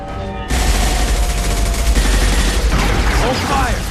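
Dense gunfire in the Mass Effect 2 video game, a sudden onset into a continuous, loud rattling fusillade of rapid shots with booming impacts, mixed with game sound and a voice underneath.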